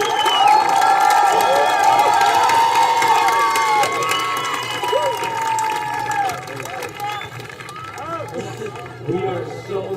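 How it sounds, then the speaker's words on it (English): Graduating class and families at a high school commencement cheer and shout in a large crowd, a loud sustained roar with whoops that slowly fades over ten seconds while voices carry through. "Please give everybody out here a round of applause for what they've done for you."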